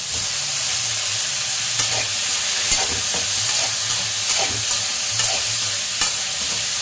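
Tomatoes and curry leaves sizzle in a frying pan, a steady close hiss broken by soft scraping stir strokes every second or so.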